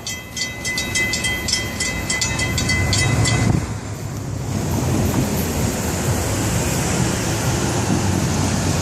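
Florida East Coast Railway train 101 passes a crossing on County Road 512 East on the main line: a loud rumbling roar of wheels and rail cars with crossing bells ringing at first, then a steady, slightly fading rush.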